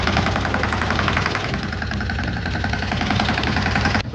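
A loaded tractor engine chugs close and loud with a steady, rough rhythm, then cuts off abruptly at the very end.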